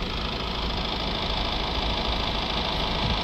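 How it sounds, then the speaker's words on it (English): A Honda CR-V engine runs at a steady idle with a dense, continuous low rumble. The sound is close, even in loudness and heard alone with no talk, during work on a DPF ash fault. "I'm gonna do this one with the engine running"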